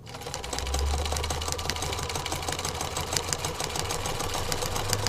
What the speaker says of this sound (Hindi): और यहाँ पर सीता साड़ी सिलने लगती है।